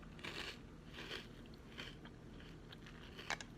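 Close, quiet crunching and chewing of Halloween monster cereal with milk: several crisp bites and munches in uneven bursts, followed by a sharp crackle near the end, with no talking.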